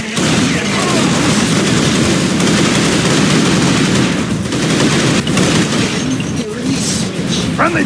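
Dense, continuous heavy gunfire and explosive booms in Unreal Tournament III's Jailbreak mode, a loud unbroken wall of weapon noise with voices heard faintly beneath it.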